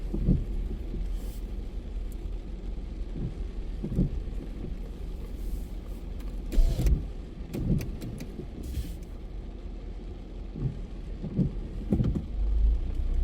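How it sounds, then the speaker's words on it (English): Steady rain patters on a car's windshield over a low engine rumble, with occasional soft thumps and ticks inside the vehicle. "I do like the sounds of the rain on the windshield."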